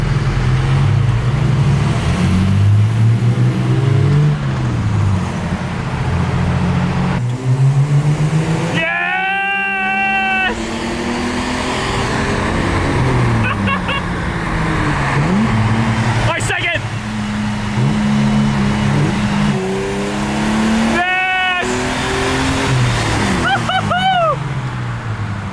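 Ford AU Falcon cars racing on a private road, a loud, steady engine roar with revs rising and falling throughout, while people talk over it.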